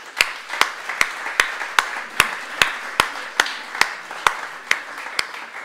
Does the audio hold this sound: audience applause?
yes